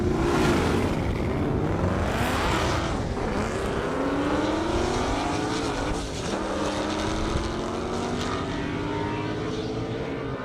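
A Ford Mustang and a BMW race side by side down a half-mile airstrip at a drag event, their engines roaring loud and continuous, with rising engine tones as they accelerate away.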